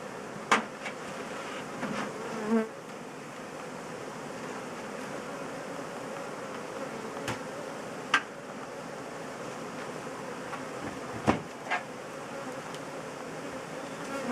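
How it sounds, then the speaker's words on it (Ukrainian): Steady low hum of many honeybees buzzing around an apiary, with a few sharp clicks and knocks scattered through, no voices. "отакі от бджолки"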